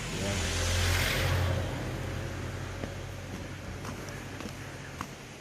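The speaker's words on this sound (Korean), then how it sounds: "아주 지금 차가 이제 지나가니까 차 소리가 들리고" A car passes on a road near a stream along a winter mountain trail at Songnisan, its engine and tire noise swelling loudly within the first second or two, then fading into steady rushing outdoor ambience.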